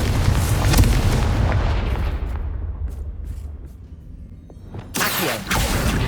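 A Confringo spell explodes in Hogwarts Legacy with a heavy, booming blast that rumbles and fades over a few seconds, then a second sharp burst lands near the end.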